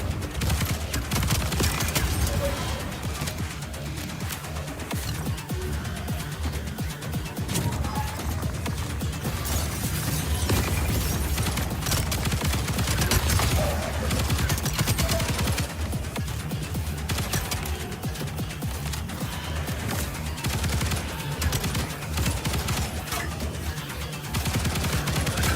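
Weapon fire in the shooter video game Void/Breaker, repeated rapid bursts and volleys with crashing impacts, loud and close over a busy background for the whole stretch.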